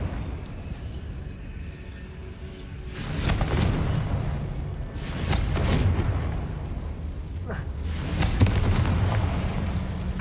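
Three Confringo spell blasts in Hogwarts Legacy, each a sudden fiery burst with a rumbling tail, spaced a couple of seconds apart over a low steady background.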